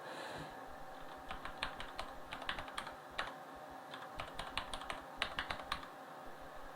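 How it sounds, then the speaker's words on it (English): Keys clatter on a computer keyboard as a username and password are entered, a close, steady run of quick irregular taps in short bursts with brief pauses between them. "I put in a username and password."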